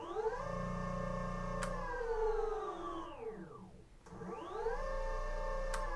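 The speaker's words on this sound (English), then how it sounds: "man, listen to those wheels." A POSSWAY V4 electric skateboard whines as its wheels roll, a tonal hum that sweeps down in pitch as it slows, dips almost silent, then climbs back up as it speeds off again, with a few sharp clicks.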